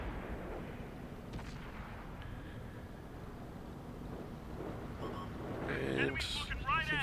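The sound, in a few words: tank gun firing in video game World of Tanks, Prokhorovka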